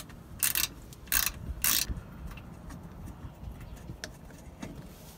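A bolt being removed from a Mazda Miata engine cover with a 10 mm socket, three sharp bursts of ratcheting close up, then quieter scattered clicks and small metallic knocks.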